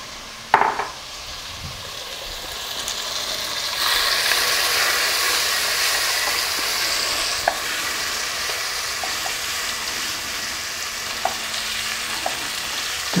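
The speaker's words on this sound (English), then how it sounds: "so I'm going to put the meat in here." Meat fries in a pan with onion and spinach for ghormeh sabzi, a thump as it goes in, then a steady, fairly loud hiss of sizzling with occasional light clicks.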